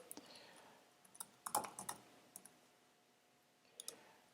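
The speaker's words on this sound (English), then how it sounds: "I'm going to type the username password" Username and password keyed in on a computer keyboard during a web login setup: sparse, faint clicks and taps clustered in a quick burst, then a pause and a final couple of keystrokes, with no voices.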